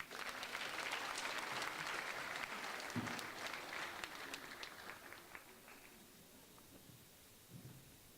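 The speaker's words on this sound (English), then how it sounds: "let's have one last huge round of applause for the 7th grade art standouts" Audience applause at a school spring concert, a dense crowd clapping that swells loudly at first, then gradually thins and fades, with a few scattered claps near the end.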